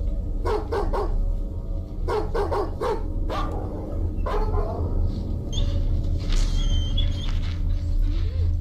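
A dog barks in several quick bursts of two or three, fairly close and loud, over a steady low hum, with a few thin whimpering tones near the end.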